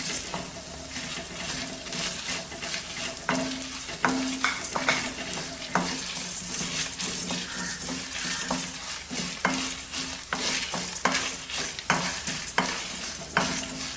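Urad dal dry-roasting in a pan for capsicum rice spice powder, a steady dense crackle and rasp of lentils with repeated scraping stirs and clinks of a spatula, close and continuous throughout.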